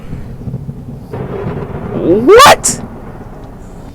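Thunder from a lightning storm: a low rumble builds into a sudden, very loud sharp crack near the end before fading, with a person briefly exclaiming.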